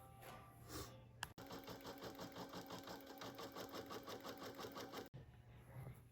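A home embroidery machine stitches a scarf piece for an in-the-hoop stuffed bear, a fast, steady mechanical whirr with a dense rhythmic needle pattern that starts after a brief pause and runs continuously before cutting off.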